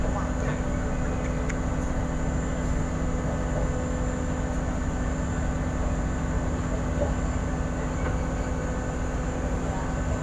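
Steady low rumble and hum inside the KA Jenggala train riding from Sidoarjo to Gresik, a constant even drone with faint rattles and no talk.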